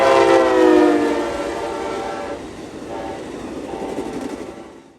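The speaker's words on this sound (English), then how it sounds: "telling us that Amtrak 29, who's running 6 hours late, is coming in, with a special treat of an ALC number 315 leading" Amtrak 29 passenger train led by ALC locomotive 315 sounds its horn loudly and close, then rumbles past with rolling wheel and engine noise that gradually fades, in Northern Indiana or Ohio.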